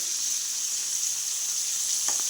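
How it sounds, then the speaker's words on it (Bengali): Marinated fresh fish fry in a wok, a loud, steady, bright sizzle that runs unbroken throughout with no voices. "কড়াইয়ে চলে যাচ্ছে আস্তে আস্তে এক একটা করে মাছ ভাজার জন্য"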